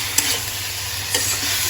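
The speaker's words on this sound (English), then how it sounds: "So I've added only half of the ginger garlic paste. So let it get fried." Ginger garlic paste frying in hot oil, a steady close sizzle with a couple of soft stirring scrapes and no talking.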